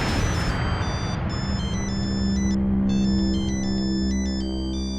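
A phone ringtone rings loudly and continuously as a repeating melodic tune over background music in a Marathi TV serial scene.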